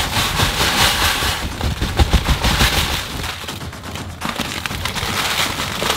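Sand poured from a bag into a saltwater aquarium tank, a loud continuous gritty rushing and hissing with irregular crackly bursts, steady throughout and close up.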